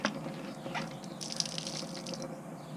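Water spraying and running over the body of a BMW 335 during a spring wash, a steady wet hiss with splashes that holds throughout, fairly quiet, with no talk.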